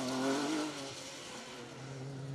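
An off-road rally car in a safari championship at Pickering revs its engine after a rebuild, a brief strong roar that rises then settles into a steady drone, heard without talk.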